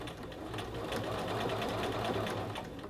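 A sewing machine runs steadily for about three seconds, stitching across a men's shirt collar band at a 5/8 inch seam, a continuous close motor whir with a rapid needle rhythm and no talking.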